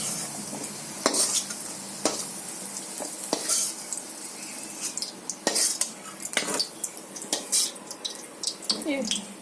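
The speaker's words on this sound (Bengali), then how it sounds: "আলুটা ভেজে নেব।" Potatoes frying in oil in a kadai (wok-style pan) with a steady sizzle, broken by repeated sharp clinks of a metal spatula stirring and scraping against the pan, heard up close.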